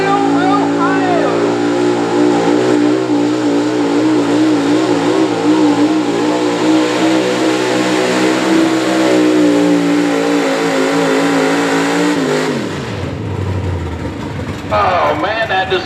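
A diesel pickup truck roars at full throttle while dragging a weighted sled at an Ohio truck and tractor pull, a loud sustained engine drone that falls off sharply near the end. An announcer talks over it throughout.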